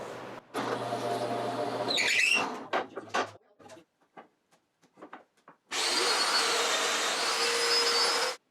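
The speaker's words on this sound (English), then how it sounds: "we're going to use the Festool domino for alignment" A Festool Domino joiner plunge-cuts mortises for aligning boards: a loud whirring run of a few seconds, a stretch of clicks and light knocks, then a second sustained whine of similar length.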